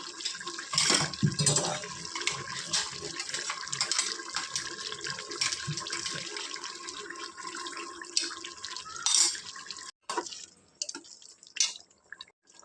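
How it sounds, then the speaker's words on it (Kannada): Water is poured into chicken biryani gravy and mixed in. Splashing and trickling come close and clear at first, then thin into intermittent drips and small stirring sounds. "ಒಂದು ಸ್ವಲ್ಪ ನೀರು ಹಾಕಿ ಮಿಕ್ಸ್ ಮಾಡ್ಬೋದು"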